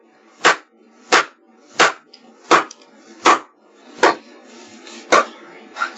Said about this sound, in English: It's actually just a kitchen knife. She's chopping zucchini.